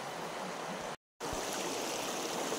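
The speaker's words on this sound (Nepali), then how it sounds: "पानी यति ठुलो रहेछ यहाँ खोलामा त" A rushing mountain stream flows loudly and steadily in a river valley, a dense continuous roar of water that drops out for a brief moment partway through.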